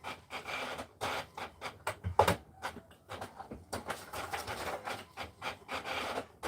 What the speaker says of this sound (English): I keep printing.